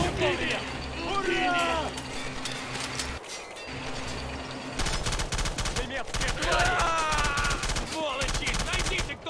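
Dense rattling gunfire fills a WWII battle in the video game Men of War: Assault Squad 2 set at Balaton in 1945, loud and rapid machine-gun bursts mixed with engine rumble and mechanical clanks, with voices shouting over it.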